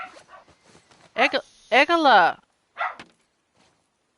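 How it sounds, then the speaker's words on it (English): A dog barks and whimpers in a few short, loud bursts during a PS5 game stream, with a person calling out over it. "you're causing barking across the world right now"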